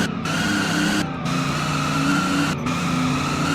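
A Ford Ranger truck in the Roblox game Driving Empire drives with a steady engine hum while its tires squeal and skid in repeated bursts, loud and close, with no talking.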